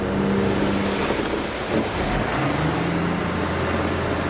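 Small tourist boat crossing open sea in the Maldives as the waves grow bigger, a steady loud engine drone mixed with rushing water and wash, close and continuous without talk.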